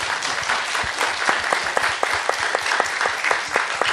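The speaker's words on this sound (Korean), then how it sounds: "큰 박수 부탁드립니다." Audience applause at a Korean film event: a dense, steady burst of clapping from a large crowd in a hall, loud and sustained with no voices over it.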